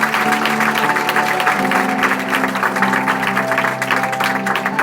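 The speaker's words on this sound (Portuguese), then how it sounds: "Aplauda mais forte." Congregation applauding during a Portuguese-language church sermon, dense, loud clapping from a large crowd under a sustained held tone, steady for the whole stretch.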